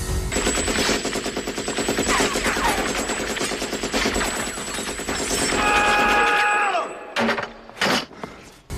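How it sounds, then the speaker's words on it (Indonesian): Machine-gun fire from a Rambo film scene where a base is shot up, a loud, relentless rapid burst of gunshots that runs on and then breaks off into a few scattered clanks and crashes. "Rambo lalu menembaki ruangan seisi markas yang membuat si Murdoch ketakutan."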